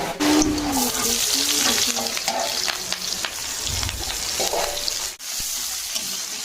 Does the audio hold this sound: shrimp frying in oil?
yes